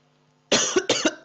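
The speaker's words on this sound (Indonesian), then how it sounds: "tiba-tiba batuk" Two sharp, loud coughs sound close up in quick succession after a moment of quiet, and the start of a third cuts in right at the end.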